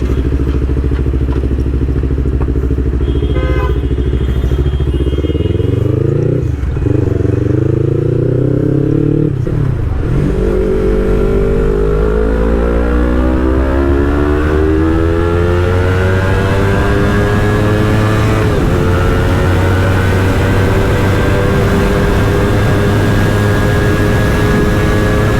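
A modified Yamaha R3 sport bike with its rev limiter removed, revving loud and close: a few sharp throttle blips, then a long sustained climb to a high, screaming pitch with no cut at redline, no talk.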